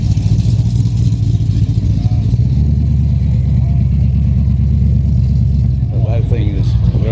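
A Holden HQ GTS 350 V8 runs loudly and steadily nearby with a deep, continuous engine rumble and slight revving, in an outdoor car meet setting, with no voices.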